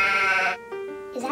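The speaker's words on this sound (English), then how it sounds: "Is that a sheep?" A sheep bleats loudly and close, one long wavering bleat followed by a shorter, quieter one, with a brief noisy sound at the end.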